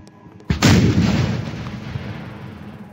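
A single loud gunshot blast in the Roblox horror game JUDY, a sharp onset followed by a long rumbling decay that fades slowly over a few seconds, with no voices.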